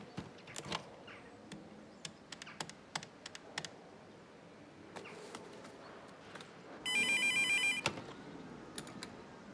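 A telephone ringtone sounds for about a second and is preceded by scattered clicks and taps like keys being pressed while a number is dialed for a lawyer, all heard in a quiet indoor room.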